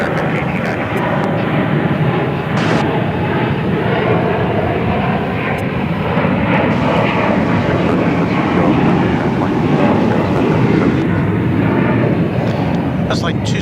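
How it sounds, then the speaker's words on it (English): An Airbus A321 airliner at DFW Airport, a loud, sustained jet engine roar that holds steady across the whole stretch, with faint radio chatter from air traffic control in the background. "That's like 2769, an Airbus A321 destined for Seattle."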